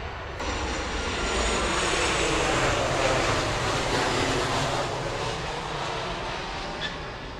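A commercial airliner rumbles at Grand Cayman airport, a steady, broad, moderately loud roar that swells slightly and holds for several seconds with no voices over it.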